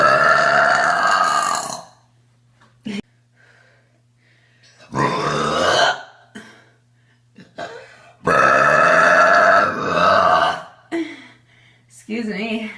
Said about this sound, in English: I got a burp.